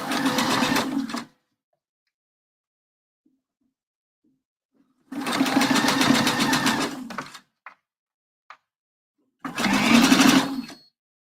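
A sewing machine stitches through very thick fabric, set to a long stitch of about 3 to 3.5 mm, while sewing a round tailor's ham for pressing bra cups. Three loud, steady bursts of running stitching are separated by silence and a few faint clicks.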